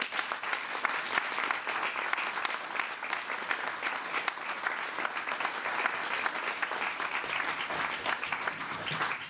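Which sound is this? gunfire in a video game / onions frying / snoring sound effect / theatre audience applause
theatre audience applause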